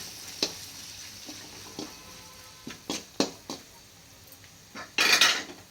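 A spoon scrapes and clinks against a pan while ground pepper, coriander and garam masala are stirred into vegetables for veg fried rice. It gives irregular close taps and scrapes, with a louder clattering burst near the end.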